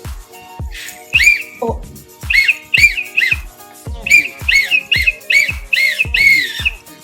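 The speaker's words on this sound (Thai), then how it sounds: "ก็คือนกหวีด" A cheap plastic safety whistle tied to a backpack strap, blown in a rapid series of short, shrill, near blasts with brief gaps, one voice uttering a short exclamation.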